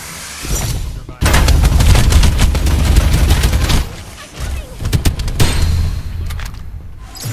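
Automatic weapon fire in the shooter game Farlight 84: loud, rapid sustained bursts that stop and restart a few times, with a voice speaking in between.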